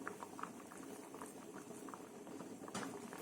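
A pot of cowpea and jackfruit curry in coconut masala bubbles at a steady, faint boil, with continuous soft popping and patter close by and no talking.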